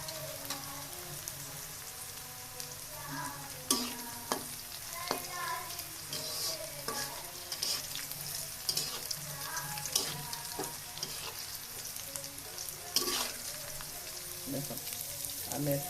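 Pangas fish frying in hot oil for a potato and pangas curry, a steady close crackling sizzle with scattered sharper pops and faint clinks of utensils throughout, a soft voice briefly audible in the background.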